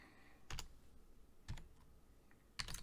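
Keys on a vintage Commodore PET computer keyboard clack in a few sparse, separate strokes, close and fairly quiet, with pauses between presses and no talking.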